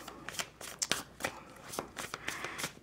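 A tarot deck is shuffled by hand, producing quick, close, repeated riffling flicks in an uneven rhythm, with a faint voice in the background.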